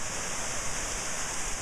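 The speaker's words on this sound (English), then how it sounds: "This is just beautiful, the river." River water rushing down over rocks in Puerto Rico on a rainy day, a steady close wash of broadband noise that carries on without a break and with no voices.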